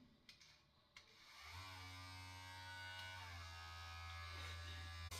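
A PAWZ 7-in-1 pet grooming kit clipper is switched on after a couple of soft clicks, then runs with a steady, close, buzzing electric hum that continues to the end.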